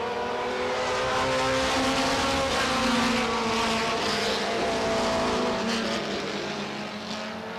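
Race cars roar along the back straightaway at Star Speedway, a continuous loud engine drone with shifting pitch as the pack passes, sustained at close range for the whole stretch.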